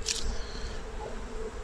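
A few honeybees buzz close by at a hive in February, a steady insect drone with a brief airy hiss at the start and no talking.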